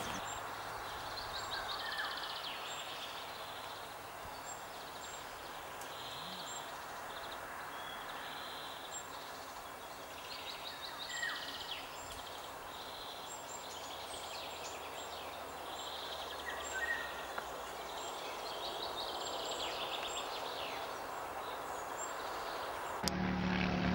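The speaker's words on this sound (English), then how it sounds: "there's a warbler singing as well." Faint, high warbler song phrases repeat throughout over a steady outdoor hiss in Hungary in May, a small songbird singing at some distance.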